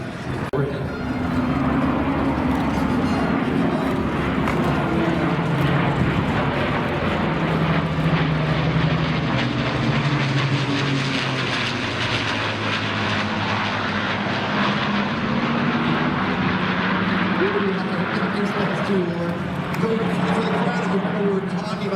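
Two de Havilland Mosquito aircraft with Merlin engines fly past at an airshow, a loud, sustained piston-engine roar with a steady, pulsing drone that swells and holds for the whole stretch.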